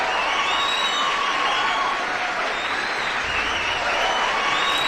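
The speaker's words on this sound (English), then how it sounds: "Crowd goes wild." Loud, continuous applause mixed with crowd cheering and whistles fills the whole stretch at steady intensity, a dense wash of clapping with no pauses.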